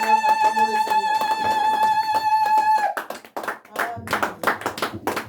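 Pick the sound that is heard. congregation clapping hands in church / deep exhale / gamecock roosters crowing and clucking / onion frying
congregation clapping hands in church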